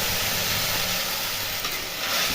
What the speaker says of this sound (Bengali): এবার এখানে আমি 1 লিটার দুধ দিয়ে দিলাম